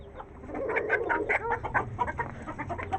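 Several chickens cluck close by on a rooftop, producing a rapid, irregular run of short clucks over about three seconds with no talking.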